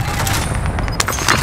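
Gunfire in the video game Warzone crackles in quick bursts, a dense close rattle of shots over constant battlefield noise, with a sharper crack near the end.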